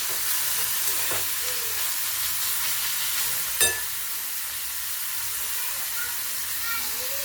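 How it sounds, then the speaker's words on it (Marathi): Onion frying golden in a pan, a continuous close sizzle and hiss with an occasional scrape or clink. "आपला कांदा गोल्डन फ्राय होत आलेला आहे।"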